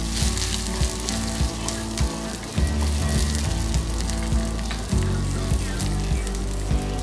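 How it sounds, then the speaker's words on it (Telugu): Thin-cut green chillies fry in hot oil in a pan, giving a loud continuous sizzle and crackle broken by a few clacks of a spoon stirring, with no voices. "ఇప్పుడు సన్నగా కట్ చేసి పెట్టుకున్న పచ్చిమిర్చి ముక్కలు 3, ఇవి కూడా బాగా ఫ్రై చేసుకోవాలి."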